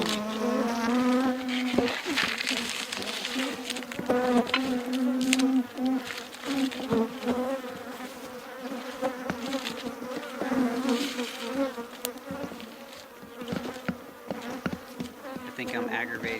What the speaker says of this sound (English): I think I'm aggravating this hive right here by standing in front of it.